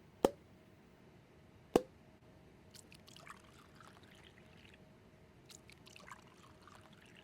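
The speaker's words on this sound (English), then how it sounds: "Allow me to pour." Alcohol is poured from a bottle in a quiet room: two sharp clinks of glass, then soft, faint trickling and splashing of liquid going into a glass, with no talk.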